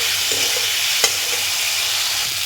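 Spice masala frying in a pan with a little water added for a simple Indian dal, giving a steady soft sizzle with light stirring and one brief clink near the middle, close and without talk.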